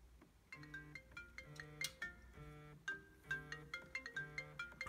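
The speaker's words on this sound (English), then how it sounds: "Hey Google, make my phone ring." A smartphone ringtone plays a bright, repeating melodic chime in short rhythmic phrases, loud and close, after the phone is called through a Google voice command.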